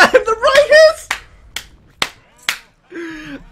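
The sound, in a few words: hands clapping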